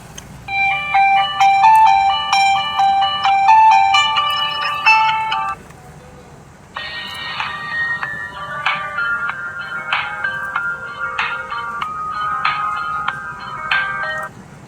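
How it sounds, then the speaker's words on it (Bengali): A Marlax MX50 button phone plays two electronic ringtone melodies in succession, each a bright, repeating beeping tune, with a short pause between them. "চলুন দেখা যাক যে ফোনটির রিংটোনের সাউন্ড কতটা ভালো ছিল।"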